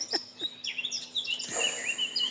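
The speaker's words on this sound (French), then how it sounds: "Je préfère les chants des oiseaux." Birds singing outdoors: a few bright, high chirps and short trills scattered across the moment, moderately close and fairly clear, with no voices over them.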